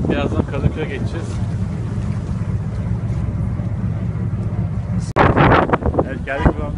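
Wind buffets the microphone aboard a passenger ferry crossing to Kadıköy, a steady low rumble of engine and water running throughout, with people talking over it and a louder gust near the end.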